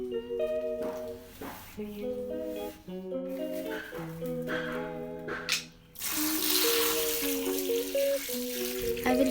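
Tap water running while a bed sheet is washed by hand, a steady close splashing gush that grows fuller and louder near the end, with music playing underneath.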